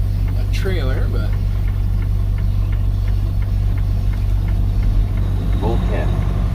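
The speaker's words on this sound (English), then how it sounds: "just gonna listen to your diesel engine drone to help me fall asleep" Steady low drone of a diesel truck engine idling, constant and close, with faint tonal whines and occasional clicks layered over the continuous rumble.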